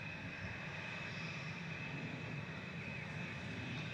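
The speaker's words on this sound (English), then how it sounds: "It's KLM Asia going from Boston to Amsterdam, 777 just flying over the top of us" KLM Boeing 777 flying high overhead from Boston to Amsterdam under cloudy skies near Manchester Airport, a faint, steady distant jet rumble with a soft whine that persists throughout.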